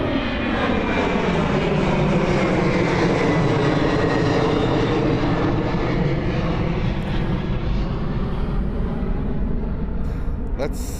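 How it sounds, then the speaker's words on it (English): An airplane at Miami International Airport roars past steadily and loudly, its engine whine sweeping in pitch as it moves by, with talk heard over it. "Maybe one last plane."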